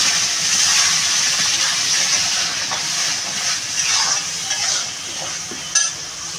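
A paste of onion, ginger and garlic hits hot oil and sizzles loudly up close, a dense hiss that eases slightly, with a brief clatter near the end.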